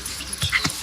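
A dog gives two short yips or whimpers in quick succession, close by and fairly soft, over a quiet indoor background.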